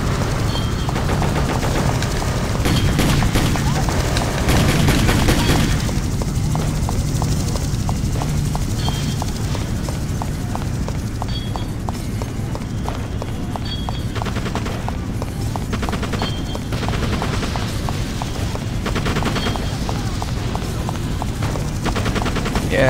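Gunfire in the video game Just Cause: loud, continuous automatic bursts and explosions with a helicopter-like drone throughout, dense and close with no letup.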